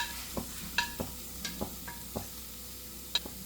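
Fish roe mixed with grated coconut, onion and salt is stirred in a pan with a soft sizzle, the spoon giving a series of light scraping clicks in an uneven rhythm, close and fairly faint.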